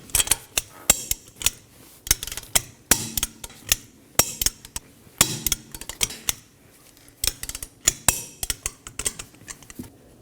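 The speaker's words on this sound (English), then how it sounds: "we're going to torque our 5 fasteners to 100 foot-pounds in an alternating pattern." Wheel lug fasteners on a 2014-2023 Ford Transit Connect being tightened to 100 foot-pounds in an alternating pattern, giving a steady series of sharp, close metallic clicks and clacks with short pauses between them and no talking.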